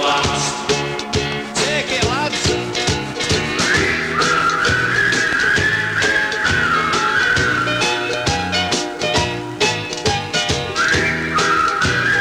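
A group whistles a bright tune in unison over a full band playing a rhythmic backing, the melody rising and wavering throughout.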